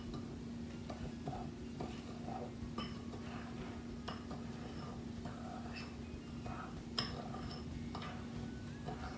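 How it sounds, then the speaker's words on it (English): Egg whites and sugar being stirred together by hand for French meringue, soft repeated ticking and scraping of a utensil against a bowl, faint and close over a low steady hum. "I'm going to mix it until all the sugar is a little bit covered by egg whites"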